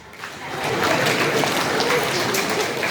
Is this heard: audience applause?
yes